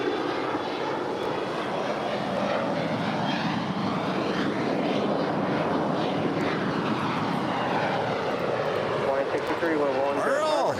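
A Moss Air Cargo Boeing 767-200 freighter departs for Mexico City, its jet engines a steady broad roar that holds throughout, fairly distant, with a voice talking over it.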